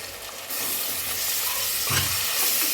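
Tomato pieces dropped into a hot pan of frying onions, chillies and mint, giving a sudden rise into steady, loud sizzling and crackling that carries on without a break.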